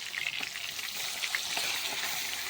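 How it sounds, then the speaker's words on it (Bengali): Onions frying in a pan alongside fish, a close, steady crackling sizzle with small bursts, with no talk. "পেঁয়াজ ভেজে নিচ্ছি তো চলো পেঁয়াজটা ভেজে নিই"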